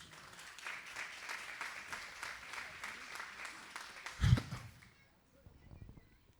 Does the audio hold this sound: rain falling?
no